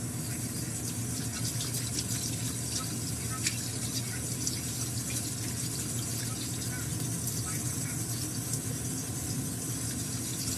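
Hot tap water runs steadily into a sink as someone washes their hands in a home kitchen, a continuous close splashing rush lasting throughout.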